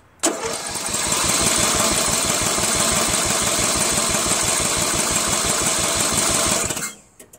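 A flathead engine on a Toro Wheel Horse 1238XL lawn tractor cranks steadily during a compression test, its fast, even, rhythmic chugging running loud and close for about six seconds before stopping abruptly.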